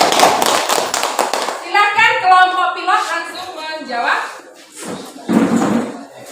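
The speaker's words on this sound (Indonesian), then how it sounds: "Tepuk tangan buat pertanyaan Aziza" Classroom applause in a school lesson: a dense patter of clapping hands opens loudly and fades, with a teacher talking over and after it and children's voices nearby.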